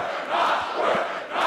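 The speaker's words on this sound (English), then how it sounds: "The crowd is chanting back." A crowd chants at a sporting grand final after a player's ejection, with rhythmic, swelling massed voices rising and falling in waves from a distance.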